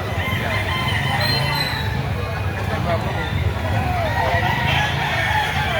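Roosters crow and cluck at a Saturday fighting-cock market in Lipa City, Batangas, heard over a steady crowd babble and nearby voices of people talking.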